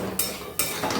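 A spoon stirs and scrapes through frying spicy semolina in a pan as water is added a little at a time, giving a short burst of clinks and sizzling scrapes, close and fairly loud.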